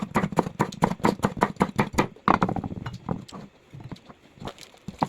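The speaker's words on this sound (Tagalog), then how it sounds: "Isusunod na naman nating hiwain ang bell pepper." A knife chops a bell pepper rapidly on a cutting board, a quick run of sharp knocks followed by slower, scattered cuts.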